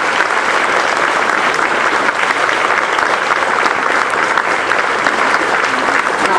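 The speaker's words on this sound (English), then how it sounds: "So one more round of applause for them, please." Audience at a school graduation giving the teachers another round of applause, a loud, dense and unbroken roar of clapping that holds steady from start to finish.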